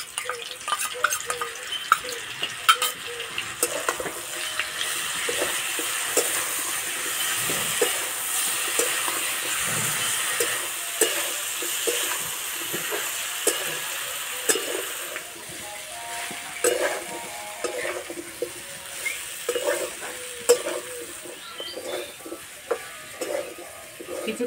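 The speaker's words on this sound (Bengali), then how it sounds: "এইভাবে নাড়তে নাড়তে সবজি সিদ্ধ হয়ে যাবে।" Vegetables and spinach for a vegetarian labra being stirred in a frying pan, with steady sizzling and repeated scraping strokes of the spoon, close and fairly loud throughout with no talking.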